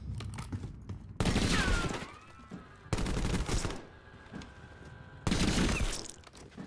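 Bursts of rapid SMG fire in a video game, three loud sustained volleys of a second or more separated by quieter gaps with distant shots and clatter, no talking.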